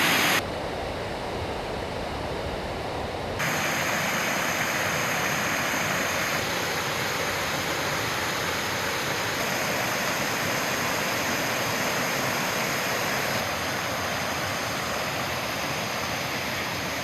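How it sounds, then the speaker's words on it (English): South Fork of Citico Creek flowing in a wilderness area, a steady broadband rush of moving water heard close and continuous, with a brief muffled moment at the start before the full sound returns. "This is the South Fork of the Citico Creek."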